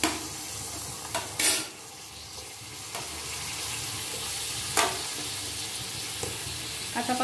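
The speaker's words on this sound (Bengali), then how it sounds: "এই প্যানের ভিতরেই আমি কাঁচা কলাগুলো ভেজে নিব।" Raw banana pieces crackle and sizzle in oil in a frying pan, a continuous close fry broken by occasional sharp clatters of a utensil against the pan.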